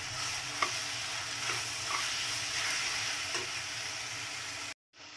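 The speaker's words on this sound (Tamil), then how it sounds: "வெங்காயம் தக்காளிலாம் கொஞ்சம் நல்லா வதங்கிடுச்சு." Chopped onions, tomatoes and coriander leaves sauté in a pan for a Tamil chicken gravy, a steady close sizzle with a few soft stirring scrapes, no talk, then a brief cutoff near the end.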